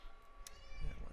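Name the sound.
cat meowing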